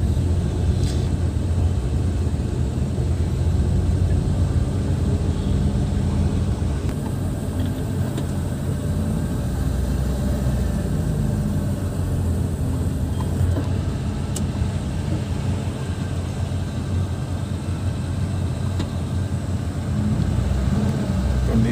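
Car engine idling in a traffic jam, the engine fitted with a modified radiator hose, giving a steady low rumble with continuous traffic noise throughout, no talking.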